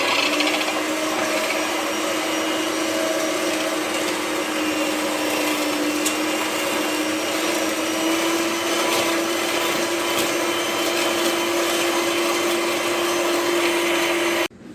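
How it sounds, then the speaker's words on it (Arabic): An electric hand mixer whirs steadily as it beats a butter-free shortbread dough mixture while oil is gradually added, a continuous motor whine held for the whole stretch before cutting off at the end. "غادي نضرب الخليط ديالي وانا كنزيد الزيت بشويه بشويه حتى يبيض اللون ديالو"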